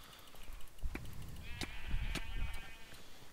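Sheep bleat in a video game, several short wavering calls at moderate distance over a busy background of game sounds.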